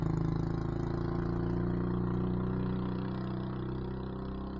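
A Euro 150 motorcycle labours up a steep road at Cadaclan in San Fernando City, La Union, its engine giving a steady, close, strained hum that eases slightly toward the end.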